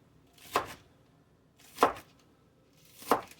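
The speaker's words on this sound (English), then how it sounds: "I'm just going to chop those just like this." Knife chopping produce on a cutting board, three crisp evenly spaced thunks about a second apart, close and clear against a quiet kitchen.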